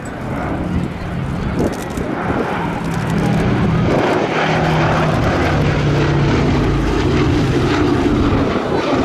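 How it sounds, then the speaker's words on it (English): Sally B, the B-17 bomber, flies past at an air show, its piston propeller engines building to a loud sustained drone that rises and swells as it nears, with people talking nearby. "Sally B, the only flying B-17 in Europe. Here she comes."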